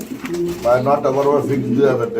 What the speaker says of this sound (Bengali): জলিল ভাই এখানে কিন্তু খুবই চমৎকার একটা পেয়ার দেখতে পাচ্ছি এটা কি কবুতর ভাই